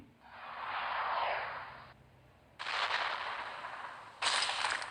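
Test shots fire in the World Conqueror 4 strategy game using the Kaiserreich mod. Three loud, sustained blasts come one after another with short gaps between them, and no voices are heard.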